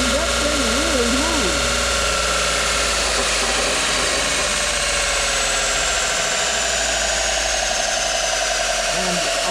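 A workshop grinder motor on 220 volts spins up into a loud, steady electric whine and hum with high tonal overtones, running continuously while someone talks over it.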